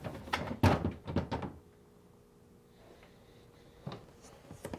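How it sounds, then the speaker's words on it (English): A freezer drawer on a Whirlpool or Maytag refrigerator slides out and lifts free: several close plastic clunks and scrapes in a quick cluster, a quiet pause, then a couple of softer knocks. "Now, remove the top drawer by sliding it out and lifting up."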